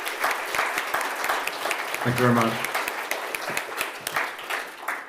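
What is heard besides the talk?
audience applause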